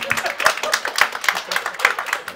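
An outdoor terrace audience at a stand-up comedy show claps in a steady, brisk round of applause, close and loud, with a few voices mixed in.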